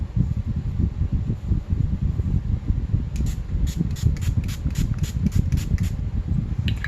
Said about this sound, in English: So then I'm going to spray my face with this